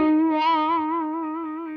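A distorted electric guitar riff with a wah pedal sweeping the tone, slowed down, sustained notes ringing with a vocal, vowel-like shift, played alone.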